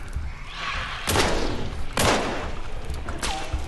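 Gunfire from the video game Hunt: Showdown: two loud, sharp shots about a second apart, each followed by a ringing decay, over a steady game ambience with a fainter report near the end.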